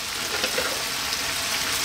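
Chicken and garlic tomato spaghetti is tossed in sauce in a hot pan, giving a dense, even sizzle with no distinct strokes, close and continuous for a brief moment.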